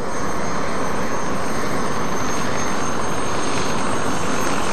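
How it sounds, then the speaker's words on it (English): A model aircraft with a 340cc engine turning a full-size aeroplane propeller roars loud and close at an outdoor model show, a sustained broadband drone with a steady high whine. "This has got a full-size aeroplane prop on it, by the way, 340 cc's of power"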